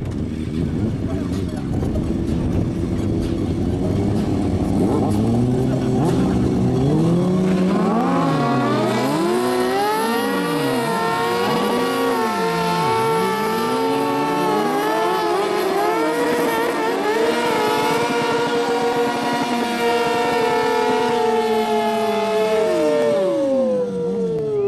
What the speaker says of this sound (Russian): Каждый из мотоциклов 140 лошадиных сил были сдержаны одним человеком